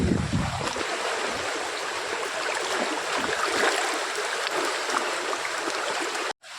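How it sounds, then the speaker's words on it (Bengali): Flood water pours out of a flooded house in Birbhum, a steady rushing wash of moving water heard close and continuous before a brief dropout near the end. "বাড়ি থেকে জল চলে যাচ্ছে"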